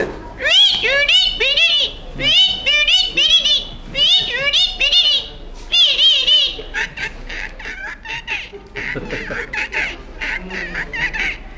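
A voice imitates a talking parrot, giving several bursts of shrill, warbling, parrot-like chatter followed by rougher, noisier squawking calls, close and loud.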